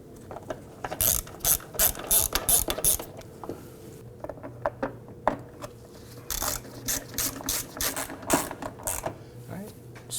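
A ratchet tightens fuel tank bolts on a 2005–2009 Subaru Legacy 2.5L H4, its quick clicking strokes coming in close repeated bursts with short pauses between runs.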